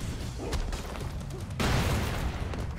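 Dense gunfire and booming explosions from the run-and-gun video game Broforce, a continuous rattling fusillade with a sharper burst midway, loud and close with no talk over it.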